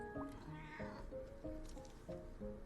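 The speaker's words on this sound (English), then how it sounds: "that's my cat Sabrina." A domestic cat meows several times in quick succession, short rising and falling calls close by and fairly faint, with a quiet room behind.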